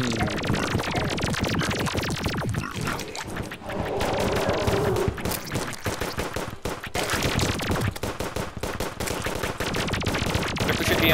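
Rapid gunfire from a weapon in Terraria, a steady dense stream of shots running nearly unbroken throughout, loud and close, with a brief thinning near the middle.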